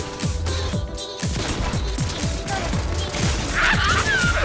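Pistol gunfire in the Fortnite video game, a rapid run of loud, close shots in quick repeated bursts across the whole stretch, with a brief game sound effect near the end.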